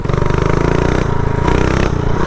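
A custom minibike engine revs hard while being ridden, a loud, close, buzzing drone that rises and dips with the throttle.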